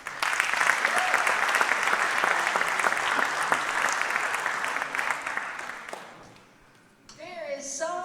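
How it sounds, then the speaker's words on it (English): An audience at a spring jazz night applauds the performers on stage, dense, steady clapping that holds loud for about six seconds before fading, then a voice starts talking. "Let's give them a huge round of applause."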